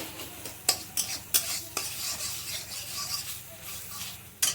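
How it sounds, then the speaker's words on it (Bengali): Tomatoes fry in a pan for a light rohu fish curry made without masala. A near, moderate sizzle runs throughout, broken by several clattering spatula strokes against the pan at the start and end. "ভালো করে একটু টমেটোটাকে ভেজে নেবে তো দেখো টমেটোটাকে খুব ভালো করে ভেজে নিয়েছি"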